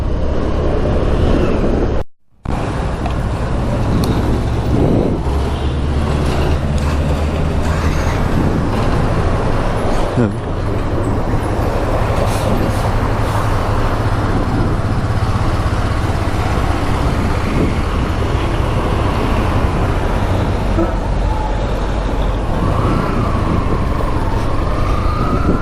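A Yamaha FZ FI V3 motorcycle being ridden through Mangalore, steady loud engine drone and rushing road and wind noise that run unbroken, apart from one brief dropout near the start.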